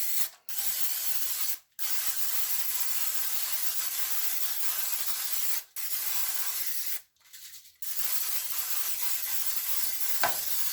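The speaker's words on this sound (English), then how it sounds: "I'm going to use some non-stick baking spray to lightly spray this pan" Several bursts of aerosol non-stick baking spray hiss close by onto a ridged cake pan, a long continuous spray broken by brief pauses, ending with a small clink.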